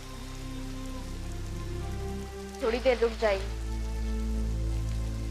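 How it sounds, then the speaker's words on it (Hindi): Steady heavy rain hisses throughout, and a voice speaks briefly partway through. "बारिश बहुत तेज हो रही है"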